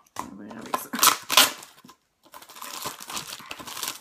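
Packaging around a small metal box is torn and crinkled open in quick close rustling bursts, with a short quiet gap between them.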